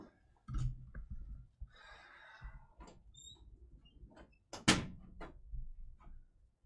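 A studio door is handled and opened for a dog, with soft knocks, a scraping slide and a sharp latch clack, close and quiet amid faint shuffling.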